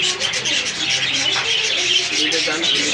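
Dense chirping and twittering from numerous caged birds at the Mirpur 1 bird market, steady and close, with low market chatter and occasional coos underneath.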